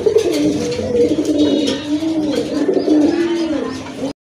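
A pair of white Shirtin pigeons in breeding mode coo in loud, close, overlapping rolling calls, with a few faint chirps, before cutting off abruptly.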